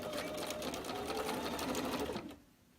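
A sewing machine runs a quarter-inch seam on a holiday table runner, making a steady close whirring hum of rapid stitches that stops abruptly after about two seconds.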